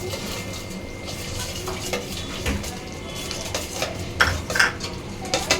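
Gobi manchurian with soy sauce and green and red chilli frying in a pan, with steady stirring, spatula scrapes and clinks of metal against the pan over a low sizzle, growing a little louder near the end.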